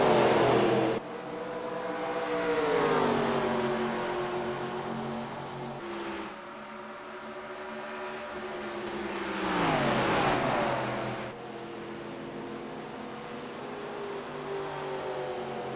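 Race cars roaring through laps on an oval track at the All Star Open, engines rising and falling in pitch as cars pass close, then fading, a near-continuous loud roar.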